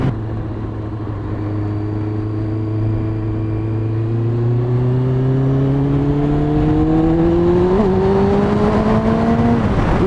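A high-mileage Kawasaki Ninja ZX6R on a new rear tyre is ridden, its engine droning loud and close with pitch climbing steadily through the revs, wind rush underneath.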